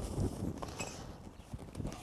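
Hooves of a horse in groundwork training shift and clop on the ground, a few soft irregular steps up close with light rustling between them.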